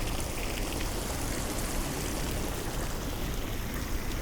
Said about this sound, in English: And we have ourselves a fountain.